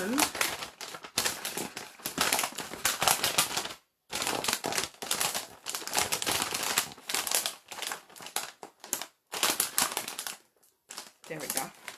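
Christmas wrapping paper crinkling and rustling as presents are wrapped, loud close bursts of crackly handling broken by short pauses, with a voice talking over it.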